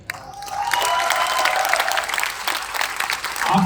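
A hall audience applauds during a Hindi motivational talk, dense steady clapping that builds quickly and holds throughout.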